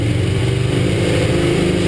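Ducati Streetfighter motorcycle engine running at steady revs, a continuous close, loud, throaty rumble with a dense low pulse throughout and no audible talk.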